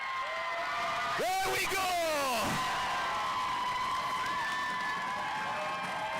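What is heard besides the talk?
crowd cheering at England vs Wales game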